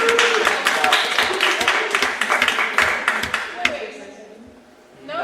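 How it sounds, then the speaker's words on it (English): A meeting crowd breaks into dense clapping and cheering that fills the room for several seconds, with voices mixed in, before fading out. "Clap then, you monkeys,"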